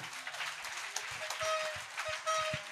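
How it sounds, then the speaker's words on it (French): A congregation at an outdoor healing crusade acclaims and claps. Scattered clapping and cheering mix with low thumps and a faint tonal sound, moderately close. "Acclamation."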